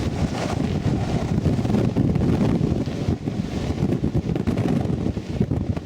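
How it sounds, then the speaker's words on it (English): Strong wind buffets a freight train on the Hi Line, loud gusty roaring and rumbling that swells and fades in waves, close and continuous with no talking. "It's so fucking windy. We're gonna get blown over."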